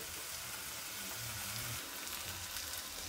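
Vegetables for macaroni pasta fry in a pan with a continuous, dense sizzle and crackle. The sizzle is steady and close, with faint low bumps beneath it.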